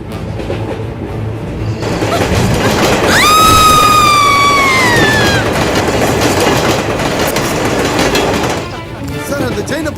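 A moving train rumbles loudly and steadily with clattering wheels, and a high squealing whine rises and fades partway through. Voices speak faintly under the din.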